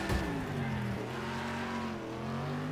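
A race car engine in the game Next Car Game, a loud sustained snarling rev with harmonic pitch rising and falling as the car powers along, close and continuous without talk.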